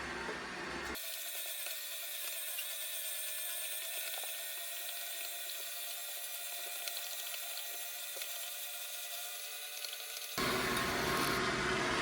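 A LINKchef Rush slow juicer runs with a steady whirring hum and faint ratcheting clicks, close and even, switching on and off at either end.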